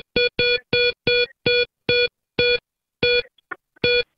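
A voice imitates the repeated beeping of a pneumatic tube delivery system in a home, about ten short evenly spaced electronic-style beeps, clear and close with nothing else behind.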